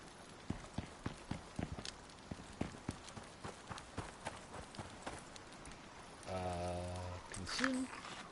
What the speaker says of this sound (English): Chamois, or a pronghorn